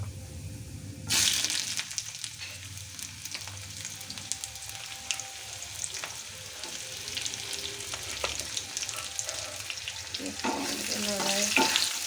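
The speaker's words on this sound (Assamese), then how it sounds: "অলপ ভাজি ল'ম এনেকৈ পিঁয়াজখিনি" Onions fry in a little oil in a home kitchen, giving a steady, close crackling sizzle with occasional stirring and scraping noises, and no voices over it.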